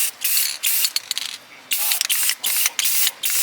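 Spray paint goes on as a second coat over Chrysler 300 SRT brake calipers in bursts of close, steady hiss, each lasting under a second with short pauses between them.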